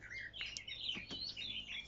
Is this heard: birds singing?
yes